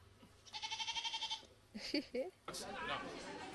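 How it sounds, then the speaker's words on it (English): A little goat bleats in a quick, wavering series of pulses while eating leaves, fairly close and clear, followed by short rustles and then people talking. "the sound effects are coming from this little goat eating leaves"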